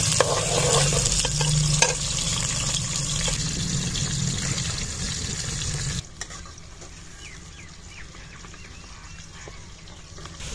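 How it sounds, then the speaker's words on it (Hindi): Onions frying in hot ghee for an Afghani pulao, giving a steady loud sizzle with stirring scrapes that drops to a quieter, softer sizzle partway through, with no voices. "घी गरम हो गया है तो प्याज डालेंगे"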